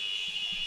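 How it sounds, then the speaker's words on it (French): An end-of-quarter buzzer at a French professional basketball game, ASVEL against Chorale de Rouen, blares as a loud, steady electronic tone over faint arena murmur, with no commentary over it. "Le buzzer qui va retentir."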